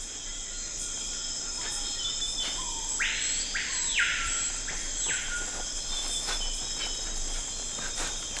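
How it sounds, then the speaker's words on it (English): Amazon rainforest ambience with a dense, constant drone of crickets and insects and a loud, nearby bird call that repeats in two or three long bursts, with no voices. "This time in the Amazon rainforest."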